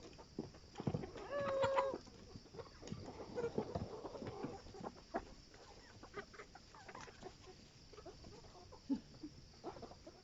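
Chickens emerging from a coop into a homemade permanent run, giving scattered clucks and short calls at moderate distance over background rustling, with a clearer call near the start.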